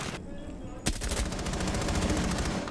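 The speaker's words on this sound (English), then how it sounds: "Try to shoot him through the wall there." Rapid automatic gunfire rattles out in a video game, a sharp burst followed by a sustained run of evenly spaced shots, loud and close, aimed through a wall.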